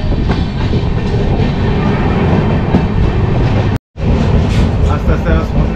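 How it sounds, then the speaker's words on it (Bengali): The Samaleswari Express runs loud and close on a single-line track, with a steady rumble and rattle broken by one sharp momentary cutout. A voice is faintly present beneath the train noise. "একদম সিঙ্গেল লাইনে ছুটে চলেছে গাড়ি"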